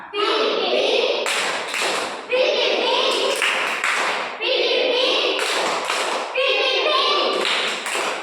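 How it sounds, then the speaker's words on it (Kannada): Children in a class clap the 'PP' pattern together, a continuous stream of loud, near hand taps and thuds in repeated bursts, with children's voices chanting along throughout. "ಇನ್ನು ಪಿಪಿ ಚಪ್ಪಾಳೆ 1 2 3 ಸ್ಟಾರ್ಟ್."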